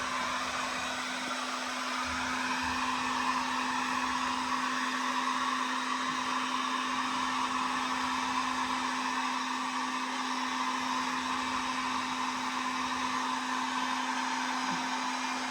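Hair dryer blowing steadily while hair is styled at home, a constant close whooshing roar with a low motor hum, unbroken for about fifteen seconds.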